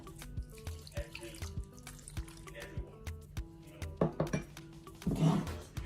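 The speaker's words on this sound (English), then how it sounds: "going to mix this and add a little bit of water" Tap water running into a sink while palm nut soup is being prepared in a kitchen, a steady splashing stream broken by clinks and knocks, swelling louder near the end.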